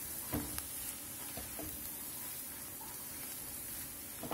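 Tender mushroom filling with chili sauce being stirred in a frying pan, heard as a soft continuous sizzle with a few quiet scraping knocks from the stirring.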